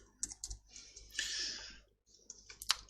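Light clicks and keystrokes on a computer keyboard and mouse in a flight simulator setup, a few scattered taps close by, soft and intermittent with brief quiet gaps.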